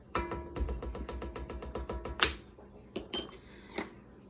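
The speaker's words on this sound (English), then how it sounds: "And then you're gonna mix it all together." Sourdough discard chocolate chip cookie dough being mixed in a bowl: a rapid, steady run of about a dozen close utensil clinks against the bowl, then a few scattered, sharper taps.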